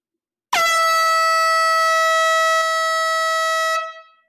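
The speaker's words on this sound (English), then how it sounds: "Here comes the air horn." A single loud, sustained air horn blast sounds at a live vinyl record sale, a steady rich harmonic tone held for over three seconds before cutting off with a short fading tail.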